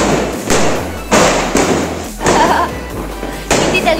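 Diwali firecrackers bursting outdoors in a loud series of heavy thuds, about six booms spaced roughly half a second apart, each with a short rumbling tail and crackle.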